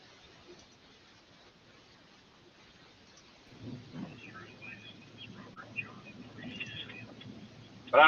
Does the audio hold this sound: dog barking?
no